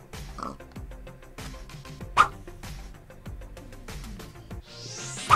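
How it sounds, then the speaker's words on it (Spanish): Pigs oinking in the Minecraft video game: repeated short grunts over background music, with a louder squeal-like oink near the middle and end. "Hay muchos cerdos."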